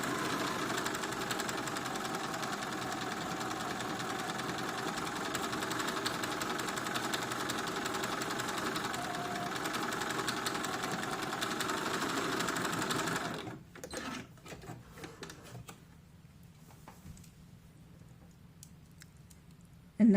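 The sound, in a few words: sewing machine sewing a straight stitch on doll dress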